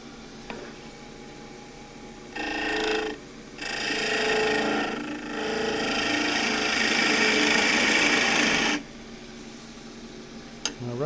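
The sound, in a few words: wood turning lathe cut on old table leg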